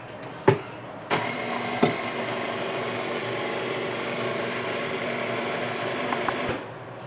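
An electric mixer whirs steadily through tres leches cake batter flavoured with vanilla, with a few knocks at the start before the motor runs on evenly and then cuts off.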